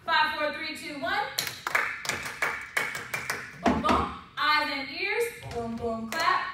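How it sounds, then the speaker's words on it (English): Sharp hand claps ring out in a steady rhythmic series, alternating with a voice singing or chanting between bursts of clapping. "everybody clap your hands"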